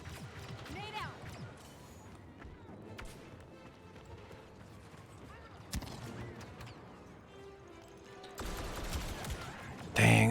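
Grenade explosion and gunfire in the game Star Wars Battlefront 2: scattered shots and impacts under a speaking voice, with a louder burst near the end.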